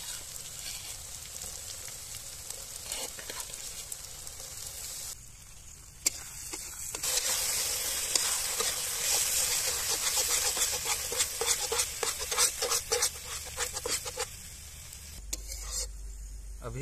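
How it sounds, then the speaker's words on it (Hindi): Spiced onion masala with ground masala powder frying in a pan in a village kitchen for a setua (mussel) curry, a continuous loud sizzle broken by repeated scraping stirs, with no talking. "अभी इसे अच्छे से लाल होने तक भुनेंगे।"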